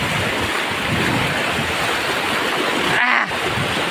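Fast, high-pressure stream water rushing loudly and steadily while someone wades across it, filling the whole clip with a dense, close roar and a brief splashy surge near the end.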